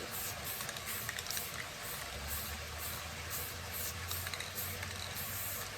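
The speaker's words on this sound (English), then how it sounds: "tilting the spray paint up towards the cup, and it shoots that paint away" Steady hissing of a spray paint can spraying a glitter tumbler cup, faint and continuous, with a low hum underneath and slight pulsing bursts.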